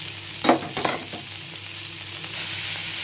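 Onion, garlic and green chili sizzle in hot oil in a pan, with a few scraping stirs near the start and a steady close frying hiss after.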